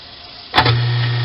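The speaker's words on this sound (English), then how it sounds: "we're going to turn the garbage disposal on," An In-Sink-Erator kitchen garbage disposer starting up with a clunk and then running as a steady, loud motor hum, heard alone.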